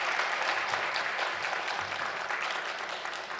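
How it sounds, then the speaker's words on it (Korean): A church congregation applauds to welcome a pianist, steady dense clapping filling the room at moderate level throughout with no voices. "우리 기쁜 마음으로 환영하는 마음으로 박수로 보답하겠습니다."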